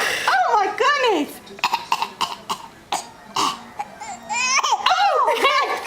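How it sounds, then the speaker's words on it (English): A young child coughs repeatedly in harsh bursts mixed with whimpering cries, close and loud, while an adult voice talks soothingly between the coughs. "Has he got a bad cough?"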